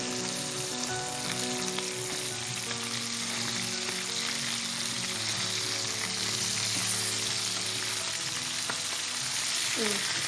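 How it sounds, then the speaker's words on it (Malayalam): Mackerel fries Kerala-style in a pan of hot oil, giving a steady loud sizzle across the whole stretch with scattered pops and sputters and no voices. "നമുക്ക് ഇടയ്ക്ക് പൊട്ടലും ചീറ്റലൊക്കെ ഉണ്ട്"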